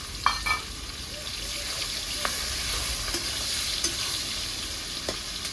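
Sliced onions go into hot oil with cloves and cardamom, a constant bright sizzle with scattered small pops and crackles throughout, close and even in level.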